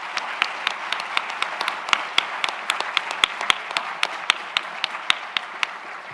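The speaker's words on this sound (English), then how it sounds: "I'll get a round of applause for you all." A summit audience applauds, scattered individual claps standing out sharply over a steady bed of clapping throughout, moderately loud and close.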